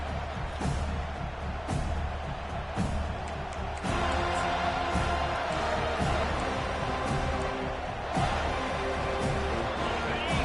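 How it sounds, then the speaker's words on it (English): Stadium crowd noise in the NCAA 25 college football video game, Florida State home game at kickoff: a steady, loud roar of cheering fans with periodic swells and thumps, continuing throughout the whole stretch. "This crowd trying to show them what it's going to be like all day in this house."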